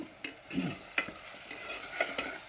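Two large onions and six green chillies frying in a pan for biryani, heard as a faint background sizzle under a series of sharp spoon-against-pan stirring clicks and scrapes, close with no speech.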